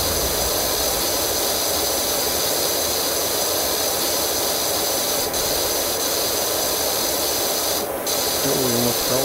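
Pressure washer spraying in the game Powerwash Simulator, a loud continuous hissing jet that holds steady throughout with only slight shifts, no voices.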